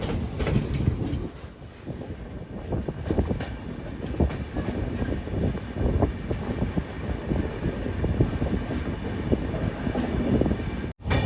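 Heard from inside an old sleeper coach of the Madhya Pradesh Sampark Kranti Express as it rolls into Madurai Junction, a continuous rumbling rattle runs throughout with faint clicking of wheels on track.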